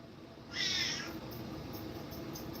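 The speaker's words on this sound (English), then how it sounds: "Yeah, I ain't never had a vocal ass cat." A domestic cat lets out a single clear meow, close and moderately loud, over a quiet room background.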